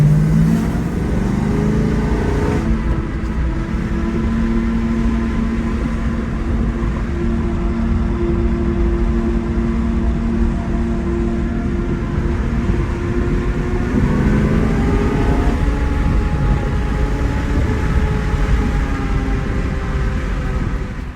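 The S65 V8 of a BMW E92 M3 Clubsport idles while warming up before an oil check, a steady low rumble with a slight lift in revs near the start and again midway, close and loud with nobody talking.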